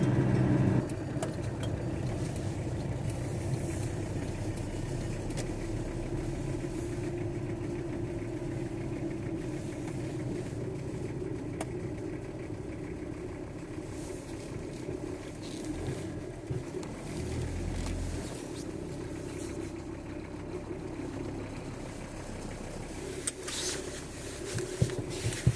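A car idling near an open prison on Chesser Avenue, Edinburgh, its engine a steady mid-pitched rumble that holds for the whole stretch, fairly close, with no talk over it.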